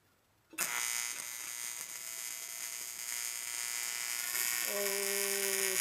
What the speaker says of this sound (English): I was welding that hot and it burned a huge hole